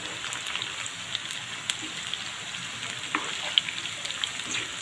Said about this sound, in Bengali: তার সাথে আমি ভালো করে পেঁয়াজগুলোকে এখন আমি ভেজে নিচ্ছি